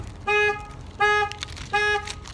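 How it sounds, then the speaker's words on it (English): Three evenly spaced electronic beeps from a car alarm sound in bursts of about a quarter second each, fairly loud over a low background rumble, with no talking. "Sorry about the alarm going off."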